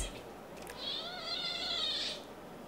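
A cat gives a single long, high meow, fairly faint over steady room noise.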